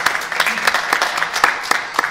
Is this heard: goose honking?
no